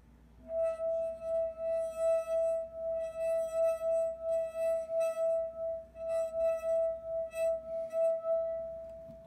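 A wet finger circling the rim of a water-filled glass makes it sing, a sustained pure ringing tone that swells and dips in a steady rhythm for around eight seconds, close and clear.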